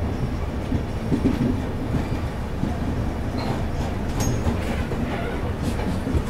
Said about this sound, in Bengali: ছেড়ে দিল আমাদের train new Bongaigaon junction station থেকে।